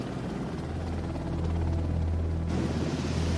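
A helicopter, a Sea King search and rescue machine, drones with a steady low rotor thrum and engine whine, continuous and fairly even, swelling slightly midway, with no voices.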